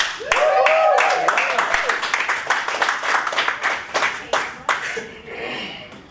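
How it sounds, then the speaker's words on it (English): Audience applause for a performer at a live spoken-word show at the Stern Center, a crowd clapping that tapers into sparse separate claps, with a voice and a brief tonal sound near the start. "please give a warm round of applause for Caitlin Cox"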